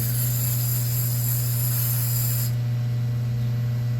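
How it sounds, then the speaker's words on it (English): A steady high hiss of spraying runs over a constant low machine hum, then cuts off abruptly partway through while the hum continues, while spraying rusty small needle-nose pliers during restoration. "spray him down again real quick"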